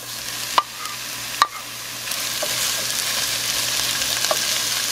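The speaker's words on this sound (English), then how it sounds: "Now you can go ahead and add your poblanos." Poblano peppers tipped into a pan of frying onions give a couple of sharp clattering drops, then a steady sizzle and stirring that fills the rest, close and moderately loud with no talk.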